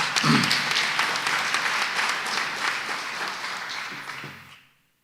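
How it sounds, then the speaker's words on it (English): Audience applause at a CSIR visit by the President, a dense steady wash of many hands clapping that fades out near the end. "I'd like to applaud you for what you do here."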